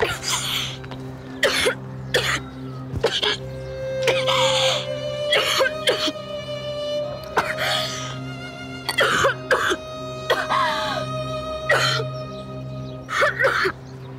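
Repeated coughing and throat clearing from a feverish young woman, in several separate close bursts over a steady low background tone, with faint murmuring between some of them.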